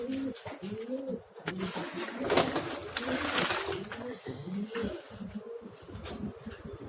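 Young pigeons coo in rolling, repeated phrases, close and fairly soft, overlapping one another without pause throughout.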